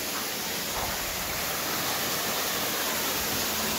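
A waterfall along a hiking trail sends up a constant, even rushing roar, broad and unbroken, with no voices over it.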